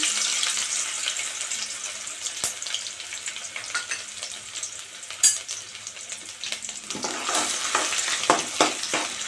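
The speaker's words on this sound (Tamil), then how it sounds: "இஞ்சியும் பூண்டும் நல்லா மணம் வர வரைக்கும் எண்ணெயில் வதக்கிக்க வேணும்" Finely chopped garlic and ginger sizzle steadily in hot oil for a dried-fish curry, a dense close frying hiss with a few sharp spatters and stirring clicks, no talking.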